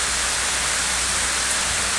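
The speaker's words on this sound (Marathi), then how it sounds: "चांगला पाऊस पडतोय बघा" Steady, dense hiss of rain falling on a surface, constant and even throughout with no voices.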